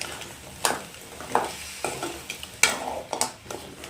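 Crab pieces coated in masala scraped and stirred around a pan, a series of distinct scraping strokes over a low background sizzle, close and alone without speech.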